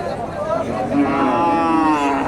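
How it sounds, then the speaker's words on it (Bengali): A cow at a cattle market in Dakumara lows once in a long drawn moo, loud and close, over faint background market noise. "ডাবল ফ্রেমের একটা গরু"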